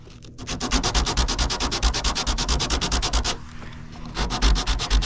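Rapid rhythmic back-and-forth sanding of a Honda Civic body panel, loud and close, a dense scratchy rasp repeating steadily with a brief pause near the end.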